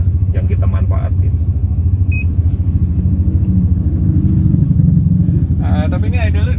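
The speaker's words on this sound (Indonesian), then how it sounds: "Tapi ini idle di 1000 emang ya?" A Nissan X-Trail T30 with a 2000cc engine idles steadily, a close, continuous low rumble running the whole way under conversation between people nearby.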